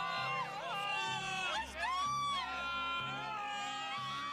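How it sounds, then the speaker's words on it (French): High, wavering screams and shrieks from a crowd of people ring out in an animated Dragon Ball Z episode. Several voices overlap in rising and falling cries over a low background tone. "Vous entendez ces cris? Je me demande d'où ces hurlements peuvent venir."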